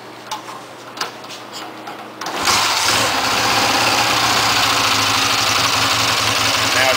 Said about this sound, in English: I'm going to go ahead and start it for you so you can hear it fire up and run.